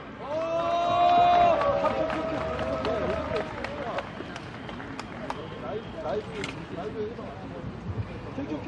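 A crowd at an outdoor doctors' street rally at Daehanmun in Seoul lets out a loud, sustained cheer. Scattered claps follow for several seconds, fading to a thin patter under background murmur.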